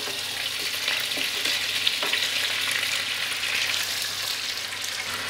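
Meat frying in oil for shahi haleem: a steady close sizzle and crackle with occasional stirring scrapes, fairly quiet and continuous.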